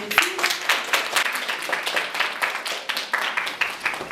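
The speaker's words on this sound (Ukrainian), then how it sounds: "гарно аплодували" Audience applause at a poetry recitation contest honouring Taras Shevchenko's jubilee: a steady, dense crowd clapping that continues throughout without talk.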